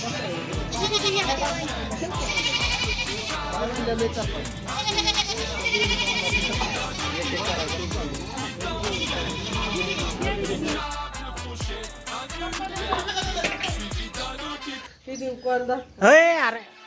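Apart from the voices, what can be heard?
goats bleating at a market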